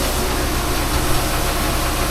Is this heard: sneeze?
no